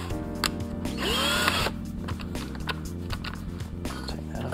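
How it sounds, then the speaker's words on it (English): A power drill spins a valve coated in grinding compound against its seat in an LS cylinder head, a short close whirring burst with a brief higher-pitched run in the middle amid small metallic clicks and rattles. "Hook up our trusty drill to this."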